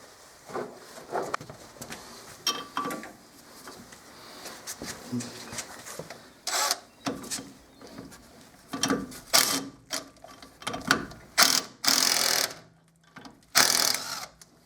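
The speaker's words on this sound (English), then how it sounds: "get the socket so I can get them off with the impact gun" An impact gun removes the front brake bolts on a Fiat Fiorino, firing several loud, short rattling bursts in quick succession after quieter workshop handling noises, with voices around.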